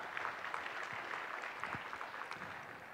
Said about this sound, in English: Please give a big round of applause to all the sponsors